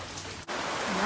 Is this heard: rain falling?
yes